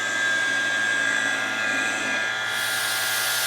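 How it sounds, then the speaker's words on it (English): Air conditioning vacuum pump running while testing a Land Rover Defender 110 300Tdi, a steady close motor whine and hum that shifts to a brighter, airier hiss partway through. "which is my vacuum pump for air conditioning"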